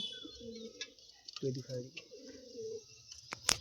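Pigeons in a pigeon loft, among them Malbai and Laldom breeds, giving low, close, rounded coos in short bursts, with a few sharp chirps and a bright squeak near the end.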